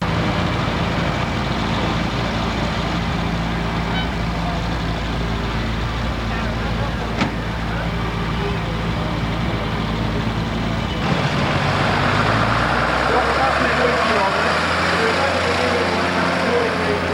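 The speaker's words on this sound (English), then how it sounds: "This is the Matador gun tractor with a big winch built in" A preserved government-owned Matador gun tractor fitted with a big built-in winch runs at a 1993 steam show, its engine a steady low rumble with one brief sharp click and a shift in tone partway through; someone talks over it.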